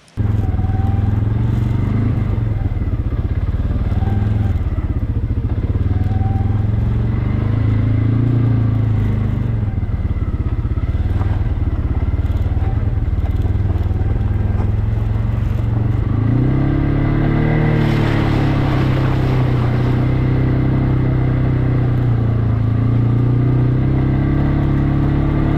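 A 2024 CFMOTO CFORCE 600 ATV engine riding down a trail, a loud, close, continuous mid-pitched drone that rises and falls as the throttle varies, with no talk.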